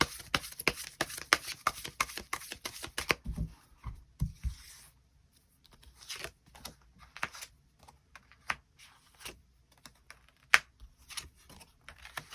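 Tarot cards are shuffled and drawn. Quick dense riffling opens the clip, then a brief pause, then scattered soft slaps and slides of cards being handled nearby, with no voices.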